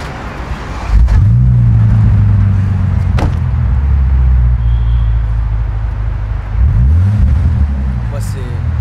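A Bentley engine rumbles deep and loud on a test drive, rising in pitch as it revs and swelling again later over steady road noise, with people talking throughout.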